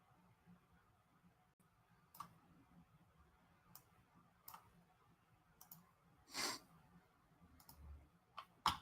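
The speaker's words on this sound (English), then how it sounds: "keep clicking on the wrong items all the time." Computer mouse clicks scattered sparsely and faintly, single sharp ticks at irregular intervals, with a few louder clicks near the end, in a quiet room during digital art editing.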